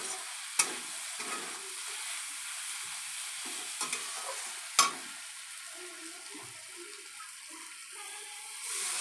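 Food sizzles steadily in a hot pan while being stirred, a continuous hissing fry with soft scraping and a couple of sharp utensil clinks against the pan, close up and alone.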